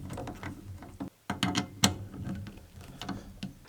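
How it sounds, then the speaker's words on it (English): Socket wrench tightening screws on a snow blower headlight mount, heard as a close series of quick clicks and ratcheting bursts with a few sharper metallic taps, no voices. "then I'll bring my socket in and tighten this up"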